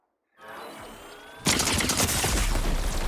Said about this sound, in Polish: Ktoś tu strzela i dokładnie wiem